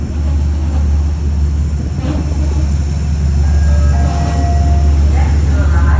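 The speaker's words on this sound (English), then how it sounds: "here comes a train right now, arriving into Croton-Harmon" A Metro-North train arrives at Croton-Harmon station with a loud, steady low rumble of wheels and cars, faint squeals above it, and a voice talking beneath the noise.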